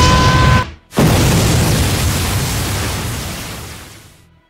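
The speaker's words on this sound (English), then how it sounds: "That explosion hit hard." A heavy cartoon explosion from an animated Mario movie: a brief dip, then a loud, broad booming blast that rumbles on and slowly fades over several seconds, with no voices.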